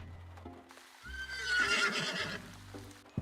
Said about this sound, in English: Was that a fucking horse?